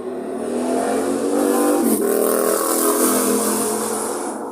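A motorcycle engine in the video game ROV (Arena of Valor) revs and roars loudly and continuously, swelling and easing slightly as it accelerates past, with no talking over it.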